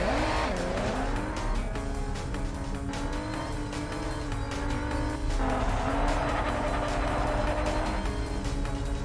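A race car in the Cars 2 video game drifts through corners with a long, loud tire squeal that rises and falls over a roaring engine, continuous and close with no talking.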